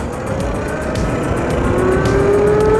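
A budget 5 kW electric mini moto being ridden, giving a steady close whine that climbs in pitch as it speeds up, with wind and road rumble beneath and no talking.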